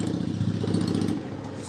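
A motorcycle going by, a loud rumbling engine with clattering mechanical noise that holds strong and then begins to fade near the end.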